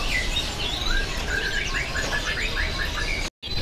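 An AF Super series canary sings rapid, trilling phrases over a steady background hum at a bird market, with repeated chirpy runs before a brief sudden cutoff near the end.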